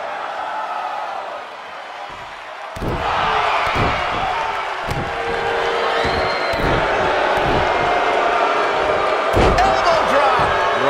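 A wrestler's elbow drop lands on the ring at a wrestling match, a series of heavy thudding impacts on the mat over a cheering crowd, with a commentator talking throughout.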